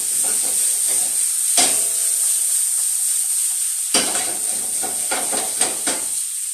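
Seasoned vegetables sizzle loudly in a hot pan with a constant hiss. A few sharp bursts of stirring and scraping break it up, with no talking.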